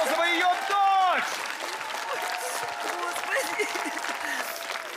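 Studio audience applauding for the singer, a broad wash of clapping that follows a sustained sung or held vocal tone at the start, with voices and crowd reactions mixed in throughout.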